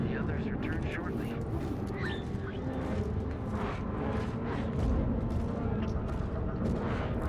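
Dense, continuous barrage of grenade blasts in The Outer Worlds 2, a loud rumbling wall of overlapping booms and crackling debris with no clear gaps, sustained throughout.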